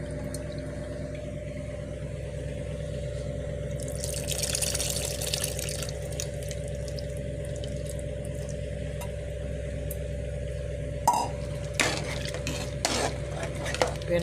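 Tamarind, about the size of a small gooseberry, is dissolved in water and poured into a simmering ridge gourd sambar in a pot. A splashing pour rises in the middle over a steady kitchen hum, with a few clinks of a utensil after it.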